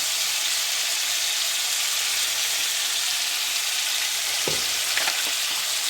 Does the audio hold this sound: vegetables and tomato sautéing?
yes